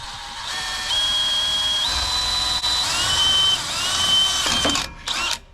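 A power drill whirs while boring holes into thin, cheap aluminum on a jon boat, its motor whine stepping up and down in pitch with short pauses, close and loud.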